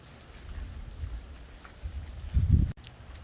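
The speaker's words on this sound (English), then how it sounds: "And it's still raining some." Steady rain keeps falling outdoors after an April wind storm, a constant patter with a heavier low gust or rumble swelling near the end before cutting off abruptly.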